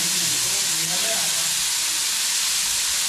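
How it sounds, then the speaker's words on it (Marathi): Green chili thecha sautéing in a pan over low heat, a steady broadband sizzle and hiss throughout with faint spattering, fairly close and continuous. "बघा आता परतून घ्यायचं, कमी गॅस करायचं थोडा म्हणजे खसका नाही होत"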